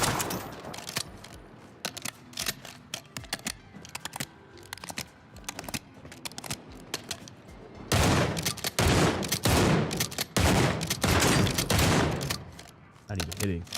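Repeated shotgun blasts in a first-person shooter video game, sparse at first then a dense run of loud booming shots in the second half, with a voice talking underneath.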